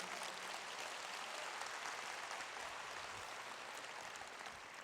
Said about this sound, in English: Yes, you can give me that applause.